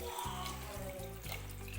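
A glass of water pours into a metal cooking pot, a brief gurgling splash that settles into a steady running fill.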